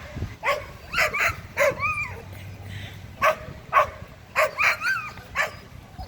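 A dog barks repeatedly at a family beach day in Kelowna, BC, giving a string of sharp yips and barks with short whimpering tones, fairly close and with no talk over it.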